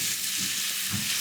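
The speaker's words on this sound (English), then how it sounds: "All that sizzle." Mushrooms sizzle steadily in a frying pan while being cooked for a mushroom grilled cheese, a close, continuous crackle with slight swells and no talking.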